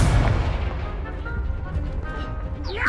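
A Confringo fire spell explodes in the video game Hogwarts Legacy, a booming blast at the start followed by rumbling debris and crackle, with a faint whooshing effect near the end.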